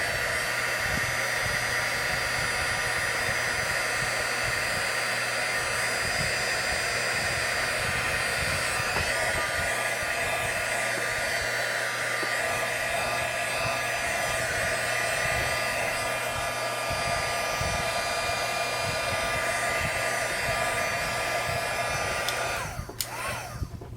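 A heat gun blows hot air at an angle across a swirl-painted epoxy tumbler, holding a steady, loud, close roar like a hair dryer throughout with no talk.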